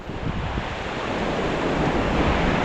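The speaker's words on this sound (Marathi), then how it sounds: "ही समोरची जे रॅपिड आहे ती रायगड राजधानी आहे" Whitewater rapid on the Kundalika river during a rafting run, a loud, steady roar of rushing, churning water filling the whole clip with no voices.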